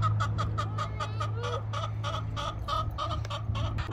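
Chickens cluck in quick, repeated bursts, a steady stream of short calls close by over a low background hum.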